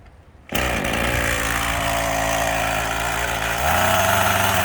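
A chainsaw cutting off stumps while clearing land: after a quiet start it starts up loud and close, then holds a steady high-revving whine that deepens slightly near the end as it bites into the wood.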